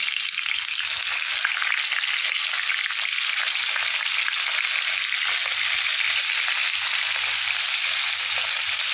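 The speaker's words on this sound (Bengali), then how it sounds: "মাছগুলো ওর মধ্যে" Fish pieces fry in hot oil in a wok with a loud, steady hiss of sizzling that holds unbroken throughout.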